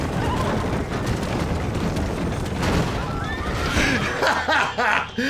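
A horse in the video game Red Dead Redemption whinnies in a series of loud, wavering neighs near the end, over a dense, rumbling game soundscape.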